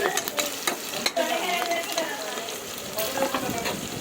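Goat head curry is stirred as it fries and sizzles in a pan, with a spoon scraping and clinking at irregular intervals over a steady frying hiss.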